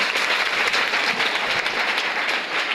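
A room full of people claps steadily for a student at an exam-candidate interview session in a school setting, dense continuous applause lasting throughout at an even, loud level.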